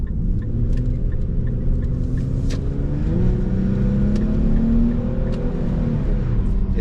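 A car with a Nissan 3.5 liter V6 engine pulls under acceleration, a loud, steady low engine drone with rising and shifting harmonics heard from inside, no talking.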